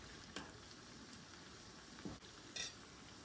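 Rice bajji fry in oil over a low flame, a quiet, faint sizzle with a few light clinks and stirring taps from a utensil against the pan, and no talking.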